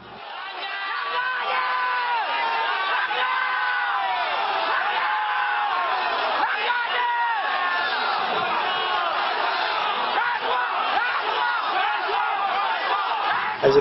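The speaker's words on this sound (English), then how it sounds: "Khairi Rasuah, they shouted, venting their frustration." A dense crowd of protesters shouts and taunts continuously at an impromptu protest where two rival groups face off. The massed voices stay loud and steady throughout, with overlapping yells and chants filling the scene.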